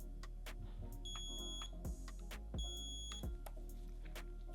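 A Presidium diamond tester beeping as its probe touches moissanite stones on a prong Cuban link bracelet, a few short electronic tones over a steady background hum, indoors with no talk.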